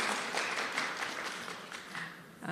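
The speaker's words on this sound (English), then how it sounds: "Let's give another round of applause to Mr. Wigan." An audience at a national health research conference applauds in a brief, moderate round of clapping heard from a distance in a hall.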